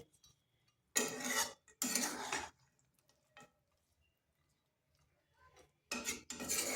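A spoon scrapes and clinks against a pot while pitha is stirred in hot sugar syrup, in three short bursts of metallic rubbing separated by quiet pauses, close by with no talk.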